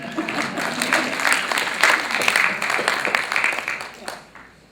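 An audience at a campus budget and operations presentation claps and applauds for about four seconds, a dense, steady patter filling the room before it tapers off at the end.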